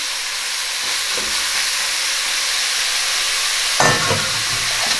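Celery, carrot and onion hitting a hot pan to deglaze, a steady hiss of frying that flares into a sharper burst of sizzle and steam near the end.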